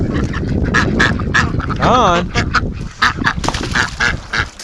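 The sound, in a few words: ducks quacking by the garden hose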